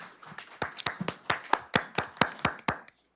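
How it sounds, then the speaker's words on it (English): A small group at a school board meeting claps for the esports team, a short, sparse burst of about a dozen distinct, fairly quiet hand claps that trail off after three seconds. "Let's give our esports team another round of applause."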